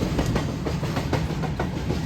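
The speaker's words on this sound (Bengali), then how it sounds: "আমাদের ট্রেন 1837 কিলোমিটার অতিক্রম করে এখন ঝাড়খণ্ডের টাটানগরে ঢুকছে।" The 12833 Ahmedabad Howrah Express rolls into Tatanagar station in Jharkhand, heard from on board as a loud, steady rumble with a rhythmic wheel clatter throughout.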